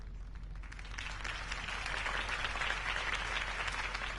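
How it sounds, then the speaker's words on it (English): A crowd at a political campaign speech in Batman: The Telltale Series breaks into sustained applause, a dense wash of clapping that swells and holds steady, heard at moderate distance. "If only Mr. Wayne, my campaign's largest backer, could have heard that applause"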